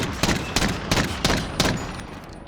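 A .50 GS handgun in Call of Duty Modern Warfare fires five loud, evenly spaced shots in quick succession, each with a sharp crack and a short echoing tail.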